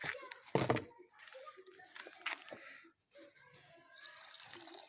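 Water pours and splashes onto the soil and compost around a newly planted cherry tree outdoors, coming in uneven gushes and trickles at close range while people talk quietly over it.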